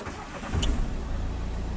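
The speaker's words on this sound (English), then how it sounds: "Okay, starting the engine." A car's engine starts by push button with the handbrake on, in neutral and the clutch down: a brief starter crank, then a low, steady idle that settles in close by.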